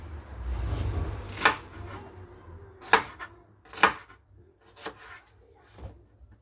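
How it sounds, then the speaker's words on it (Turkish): A knife chops onions on a board, with about half a dozen sharp, separate knocks coming at an uneven pace, close by, over a low background hum. "ve şimdi soğanları doğrama işlemine geçtim"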